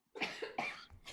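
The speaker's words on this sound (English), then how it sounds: "I'm coughing as well." A person coughs several times in quick succession, close and fairly quiet, with short breaths between the bursts during a relaxed interview.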